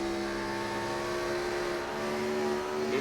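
Race car engine in an oval-track sim racing game at Phoenix holds a steady sustained drone through a corner, a smooth harmonic whine at constant pitch that rises slightly at the end, alone without talk.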